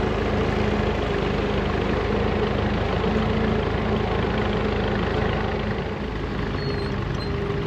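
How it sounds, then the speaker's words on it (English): Old tractors run at a ploughing match: a steady, continuous engine drone with a low rumble stays at an even level throughout, with no talk. "Some of these ploughs and tractors must be 100 years old or more."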